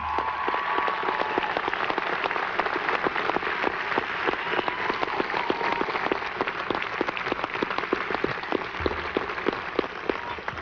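A Vassar College commencement audience claps in a sustained, dense round of applause lasting the full stretch, loud and even, with no voices rising above it.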